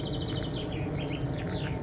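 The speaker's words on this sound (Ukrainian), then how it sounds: "Пташки співають" Birds chirp and twitter in quick, high phrases over a soft outdoor background hum in a cemetery near Zurich.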